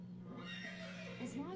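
A horse neighs in the Ben 10: Alien Force video game, a short, fairly quiet whinny rising near the end over a steady low game hum.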